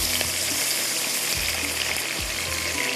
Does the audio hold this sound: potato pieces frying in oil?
yes